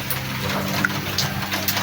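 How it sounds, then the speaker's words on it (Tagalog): Water is sprinkled over seedlings, a soft continuous splashing and trickling close by, steady through the short stretch with a few small drips standing out. "Tubigan na po natin sila. Tubigan na natin."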